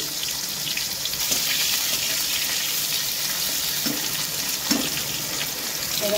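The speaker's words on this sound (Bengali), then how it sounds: "তেলটা গরম হওয়ার পরে এই যে আলুটাও ছেড়ে দিলাম" Potatoes frying in hot oil tempered with cumin and dried red chili, a loud, steady close sizzle with occasional stirring scrapes and small spatters.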